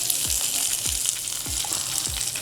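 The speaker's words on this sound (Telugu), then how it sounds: "వీటిని లో ఫ్లేమ్లో ఆర్ మీడియం ఫ్లేమ్లో లైట్ గోల్డెన్ కలర్ వచ్చే వరకు వేయించుకుందాం" Chopped onions and curry leaves fry in a pan with cumin and bay leaf over low to medium flame, giving a constant close sizzle with a few soft spoon-scrape thumps at regular intervals.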